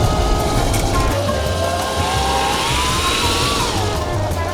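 An electric drift kart drives slowly around a track, a steady close electric whine with a rising and falling tonal pitch over low road rumble, continuous throughout.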